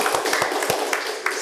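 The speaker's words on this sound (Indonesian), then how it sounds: "Oke, tepuk tangan." Students in a high school drama class clap in a short burst of applause, the sharp claps close and uneven over a noisy room.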